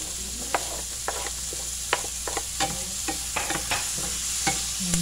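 Garlic frying in butter with onion in a pan, stirred with a utensil: a steady close sizzle under a run of sharp scraping and clinking stir strokes, with no talk.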